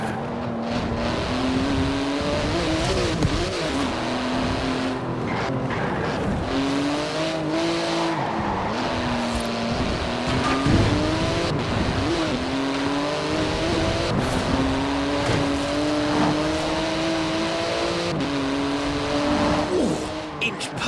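A Porsche 911 GT2 sports car races in the Forza Horizon 4 video game, its engine note climbing and dropping through gear changes with tire squeal, loud and continuous for about twenty seconds.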